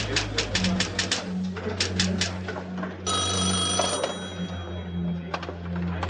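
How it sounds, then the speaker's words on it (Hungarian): A telephone rings in a scene from a 1989 thriller film: repeated bell bursts over a steady low hum, first in quick clusters, then a longer continuous stretch midway, with no talking. "Telefon."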